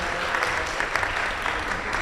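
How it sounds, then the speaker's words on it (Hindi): An audience applauds a guest being welcomed, producing a dense, continuous burst of clapping at steady loudness for about two seconds with no voices. "मैं चाहता हूं कि अक्षय लक्ष्मण, उसके लिए भी जोरदार तालियों से स्वागत किया जाए"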